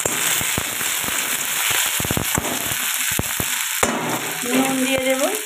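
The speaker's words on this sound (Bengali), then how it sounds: "পেঁয়াজটাও ভাজা ভাজা হয়ে এসেছে" Onions and chopped tomato fry in a pan, with a continuous sizzle broken by sharp scraping clacks of a spoon stirring, loud and close, alone without talk.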